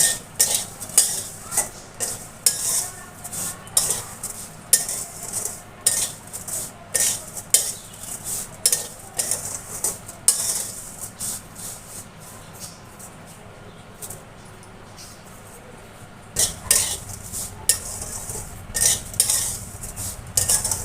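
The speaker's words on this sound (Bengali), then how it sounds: "সিমাইটাকে ভেজে নেব। লো ফ্লেমে রেখে" Broken vermicelli (semai) is fried on a low flame while a spoon scrapes and clinks rhythmically against the pan, with a faint sizzle beneath the repeated stirring strokes and a short quieter pause midway.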